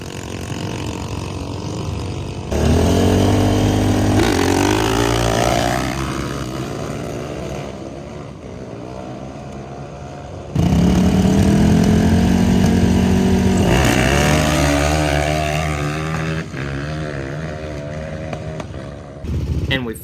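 Mini bikes and karts racing at a drag strip, loud buzzing small engines revving and accelerating past in two strong surges with steady pitch climbs, close to the track.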